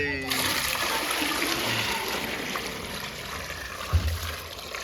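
Warm water splashes and trickles steadily into a bucket, a continuous pouring wash with a soft thump near the end and faint voices underneath.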